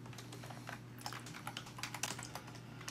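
Someone types on a computer keyboard at close range, quick irregular clicks starting sparse and growing into a busier run of keystrokes over a faint steady hum.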